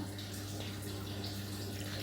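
Lemon bio-enzyme pours steadily into water with a continuous splashing, bubbling wash, close by, against a low hum.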